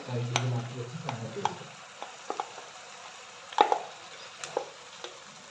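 Fried paneer cubes tipped into a pan and stirred, with soft sizzling and a series of sharp spoon taps and scrapes against the pan, close and fairly quiet, no talking.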